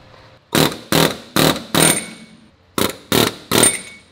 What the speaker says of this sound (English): This is an air hammer.